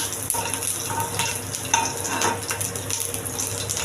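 Steady sizzling from chopped garlic frying in a hot pan, with a utensil stirring and scraping now and then.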